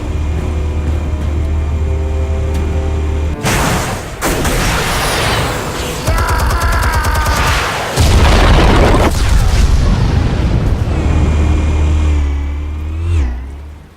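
Heavy explosions boom through Batman: The Telltale Series, with deep rumbling blasts, crashing debris and sweeping whooshes over a loud, sustained low drone that fills the whole stretch before tailing off.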